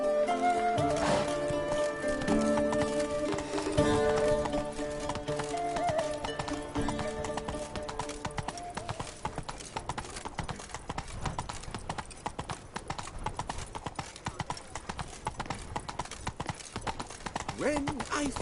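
Horse hooves clip-clop in a steady galloping rhythm in Witcher 3 Blood and Wine, with music and occasional in-game talk over the hoofbeats.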